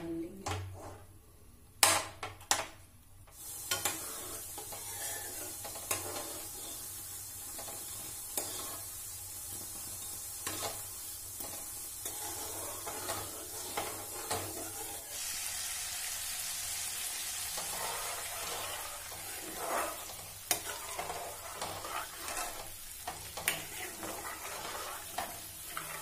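Milk cream simmers into ghee in a pan on a gas stove, a long low bubbling sizzle with occasional stirring scrapes and clinks, fairly quiet and close, with no voices.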